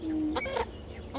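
Faint chicken clucking comes in a few short bursts, soft and close, over a low background hum.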